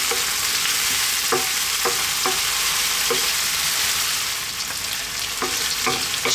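Chicken sizzles steadily in a pan over medium heat, with repeated scraping stir strokes breaking through the constant frying hiss; close and continuous, no voices.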